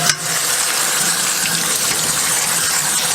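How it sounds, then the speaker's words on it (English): Fish being rinsed under a steady stream of running tap water while cooking a Vietnamese sour soup, a continuous loud gushing and splashing that holds evenly throughout without talk. "So now, I'm gonna wash the fish,"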